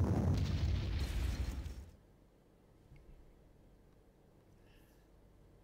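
A bomb blast in the wargame Panzer Campaigns Kursk, a heavy low rumbling explosion that roars for about two seconds and then cuts off into near silence.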